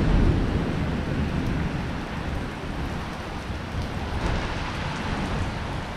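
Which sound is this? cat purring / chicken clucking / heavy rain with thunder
heavy rain with thunder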